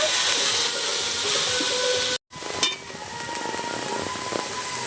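Prawn curry sizzling in a pan with a steady, bright hiss of frying. The hiss cuts out for a moment, then a clank follows as the lid comes off, and the sizzle resumes with stirring scrapes.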